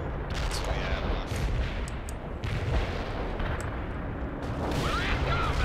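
Airstrike explosions and gunfire in the World in Conflict war game: dense, continuous barrage of booms and rapid shots rumbling throughout, with brief sharp blasts standing out.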